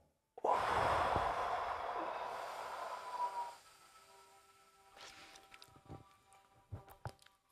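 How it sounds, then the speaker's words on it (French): A deep breath drawn in with a long airy rush, followed by a quieter exhale and a few soft breathy sounds, close to the microphone. "Une respiration"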